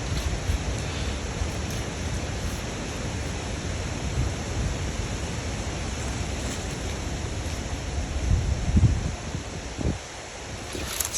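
Strong wind buffets an outdoor microphone at a metal detecting site in Australia, a loud continuous rumbling roar with no pauses that stays steady throughout and swells slightly near the end.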